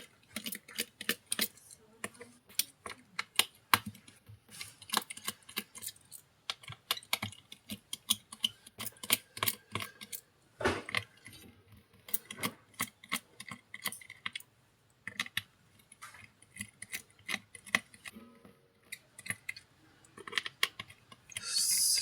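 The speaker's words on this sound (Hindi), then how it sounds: "ये सारे स्क्रू जो है वो फटाफट खोल लेते हैं" Screws being undone on a Samsung mobile phone, a dense run of small sharp clicks and ticks from a screwdriver and metal parts, close and fairly quiet, continuing steadily, no talking.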